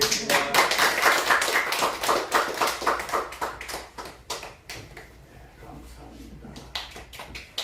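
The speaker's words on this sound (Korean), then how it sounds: "한 번 더 박수 한번 더 드리겠습니다." Applause from a church congregation rings out in a full burst for about four seconds, then thins to scattered claps that trail off in the hall.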